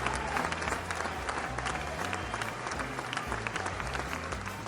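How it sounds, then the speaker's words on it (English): A studio audience at a horror-themed game show applauds to welcome a contestant family, with dense clapping over a low, pulsing music bed. "Let's give them a roaring applause to welcome them to our show."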